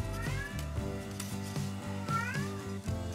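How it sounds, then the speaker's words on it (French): A house cat meows indoors at close range, two or three drawn-out rising calls over a steady rhythmic background hum. "il y a mon chat qui fait des miaou"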